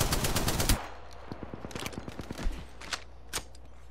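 Rapid automatic gunfire in the Apex Legends battle royale shooter, a loud dense burst followed by a run of sharp evenly spaced shots and a few scattered later reports, with no talking.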